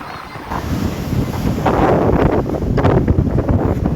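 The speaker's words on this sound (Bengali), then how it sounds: "আর হাওয়াও দিচ্ছে সেই রকম" Strong wind blows steadily across the microphone at Bheemili sea beach, where hills meet the sea, a loud continuous rushing buffet with faint surf and distant voices beneath.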